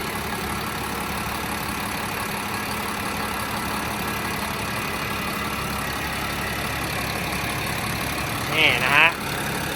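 The six-cylinder turbo diesel engine of a Mitsubishi MG500-S grader idles with a steady, even rumble throughout, and a brief higher-pitched sound rises near the end.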